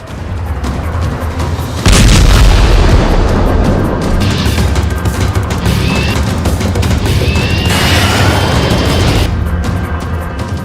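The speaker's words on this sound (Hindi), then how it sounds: "पुटिन सेनांको घन घन रॉकेट मार।" Rocket strikes and artillery fire from the war in Ukraine roar as a dense, continuous barrage of booms and rumbling blasts, with a sharp, heavier burst early on and sustained loud thunder after it.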